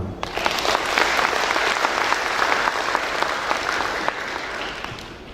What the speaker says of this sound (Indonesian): tolong beri tepuk tangan